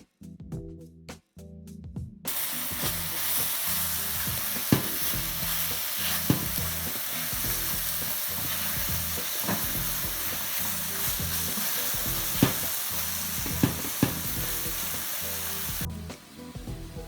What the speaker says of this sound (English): I'm going to let this go ahead and cook down and get some color on it